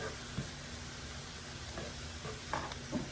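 Soy sauce is stirred into a sizzling dish, soft scraping strokes at intervals over a continuous low frying hiss.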